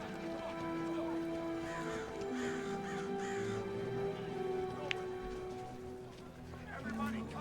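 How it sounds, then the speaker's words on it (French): Several crows caw repeatedly in loose bursts against a busy background of people talking and shouting outdoors, the calls moderately loud and partly masked by the voices. "Look at the birds!"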